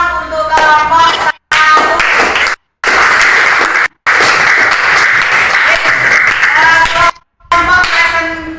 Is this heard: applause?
yes